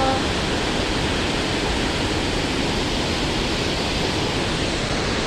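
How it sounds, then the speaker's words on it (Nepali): A large river rushes past in a dense, constant roar of flowing water, close and unchanging throughout. "आम्मा यस्तो ठुलो खोला रहेछ"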